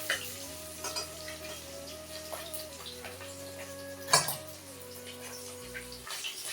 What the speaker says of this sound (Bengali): কড়াটা গলিয়ে পড়ে যাচ্ছে, প্রচুর তেল ছড়ছে, চাপা দিয়ে ভাজছি